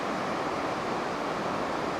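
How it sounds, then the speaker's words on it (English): Pacific Ocean surf rolling onto the shore along the wild west coast of Vancouver Island's Pacific Rim National Park, a steady broadband wash with wind noise, constant and unbroken, no voices. "here's the view of the Pacific Ocean rolling in"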